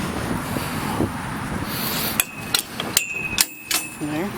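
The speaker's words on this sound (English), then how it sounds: "And so that seat then folds forward just like that." The seat of a 2012 Kawasaki Mule 4010 utility vehicle is unlatched and folded forward. A series of sharp plastic-and-metal clunks and clicks comes after a stretch of low background rumble, close by and distinct.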